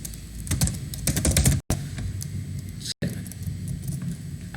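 Rapid clicking of keys on a computer keyboard in a busy office setting, irregular bursts broken by two brief dropouts, with a voice murmuring faintly in the background.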